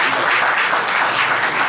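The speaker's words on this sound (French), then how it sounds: "Applaudissez pour le Seigneur" A church congregation breaks into steady, dense applause, a continuous wash of many hands clapping together with no voices standing out.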